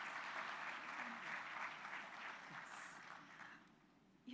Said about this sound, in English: I ask you now for another very warm applause for this fantastic message we get this morning.